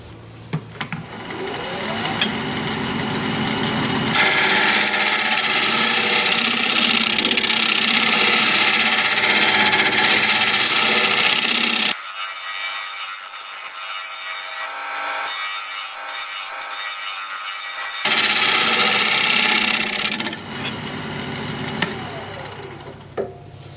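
Wood lathe turning a rustic wooden ring dish as a scraper cuts, loud rough scraping and whirring in long sustained passes, with a brief stretch of lighter, thinner cutting in the middle.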